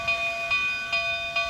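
A narrow-gauge Cumbres and Toltec Scenic Railroad locomotive is prepared in the Chama, New Mexico yard early in the morning, giving a steady close tonal drone with soft rhythmic pulses about every 0.4 seconds.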